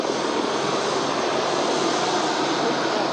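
Small fixed-wing aircraft on the flight to Lukla airport, a steady broad engine roar heard from inside the cabin, loud and unbroken with no talk.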